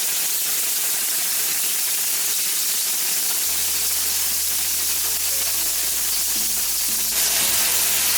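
Sliced beef for a Philly cheesesteak sizzles steadily in a hot pan as it is flipped, a continuous close frying hiss with a low hum underneath and no talking.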